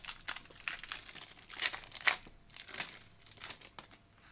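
Foil of a Pokemon card booster pack crinkles and tears open in a series of close, crisp bursts, with no talk.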